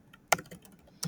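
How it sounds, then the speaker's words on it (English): Two or three sharp keystrokes on a computer keyboard, close and clear in a quiet room with no talking. "maybe I'll keep on typing"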